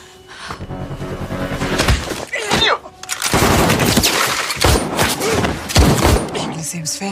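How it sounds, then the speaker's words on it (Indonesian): Sniper gunfire in the action film Heart of Stone, a dense run of loud shots and heavy impacts crowding together over a busy cinematic soundtrack, with brief lulls between bursts. "The sniper has opened fire."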